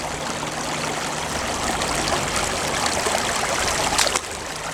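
Stream water rushing steadily through a gold sluice set up for stronger flow outdoors, a constant close broadband gush with small splashing flickers.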